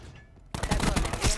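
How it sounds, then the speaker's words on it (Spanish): Rapid gunfire in the video game Black Ops 4 bursts in suddenly after a quiet moment and continues as a dense, loud volley, with no talk over it. "¿Por qué me disparas?"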